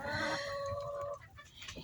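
A farm hen gives a long drawn, rising cackle close by, then trails off into a couple of softer clucks, with the low murmur of other poultry behind.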